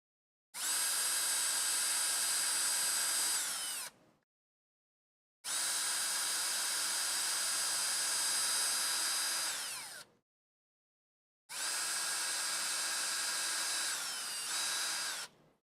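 A power drill boring a hole during an LDO kit build of a Casadio Unimog, three sustained whining runs of about four seconds each, separated by short pauses, close and loud with no talk.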